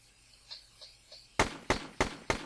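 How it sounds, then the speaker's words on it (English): A shotgun in a first-person video game fires in quick succession: three faint pops, then four loud, sharp blasts at an even, rapid rhythm. "As you can see, the shotgun shoots repeatedly and fires off like 7 shells."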